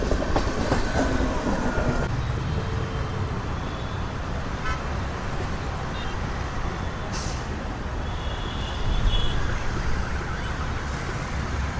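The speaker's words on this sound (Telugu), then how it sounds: "సో ఇప్పుడైతే ట్రైన్ అయితే లోపలికి అయితే వస్తుంది, ఏంటని చూద్దాం. Passenger train." A passenger train rolls into Krishnarajapuram railway station with a steady low rumble and rattling wheels, brief squeals and a short horn toot, close and continuous.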